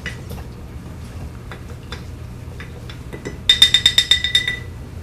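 A spoon stirring sweetener in a glass jar during vegetable fermentation, starting with soft scattered scrapes and taps, then a quick run of bright ringing clinks against the glass, close by.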